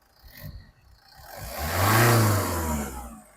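A 2017 Toyota Etios GD diesel car engine is revved once, rising from a low idle to a loud, sustained roar near the middle, then easing back down, with no talking.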